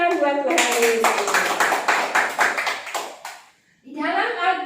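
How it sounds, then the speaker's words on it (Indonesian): A group of children clap their hands together at a church kids' session, a burst of quick rhythmic claps that fades out, followed by a voice speaking. "Oke, tepuk tangan buat Tuhan Yesus."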